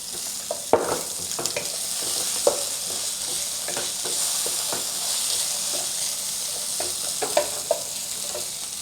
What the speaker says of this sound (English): Then add some oil to saute the aromatics. Ginger. And then followed by the scallion sections.